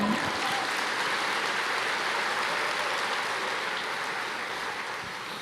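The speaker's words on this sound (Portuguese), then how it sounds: "Você pode aplaudir o Senhor?" A church congregation applauds steadily, a dense and even wash of clapping that holds for several seconds and fades slightly at the close.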